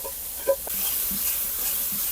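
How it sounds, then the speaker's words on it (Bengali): Ground spices hitting hot oil with fried onion, ginger and garlic in a pan for a Bengali tel jhal pangas fish curry, giving a steady close sizzle and hiss after a brief clink of the spices going in. "সব গুঁড়ো মশলাগুলো দিয়ে দিচ্ছি"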